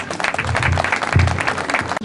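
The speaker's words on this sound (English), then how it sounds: "Let's give our chief guest a round of applause." An audience applauds for the chief guest at a speech event, dense clapping rising and falling throughout with a few voices mixed in.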